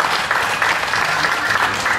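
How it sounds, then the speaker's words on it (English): Loud, steady applause from a show audience at a county fair days event, continuous dense clapping throughout with a faint voice beneath. "Give him another big round of applause"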